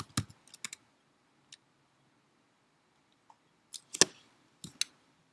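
Sparse keystrokes on a computer keyboard while working in a terminal, a few isolated close clicks early on, then a short quick cluster of taps near the end, with quiet gaps between.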